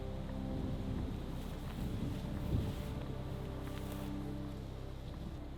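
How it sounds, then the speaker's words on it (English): Wind blowing steadily on a cold, frosty day outdoors, a continuous rushing buffet against the microphone with a brief gust swelling midway, no voices. "It's getting a bit frosty and windy."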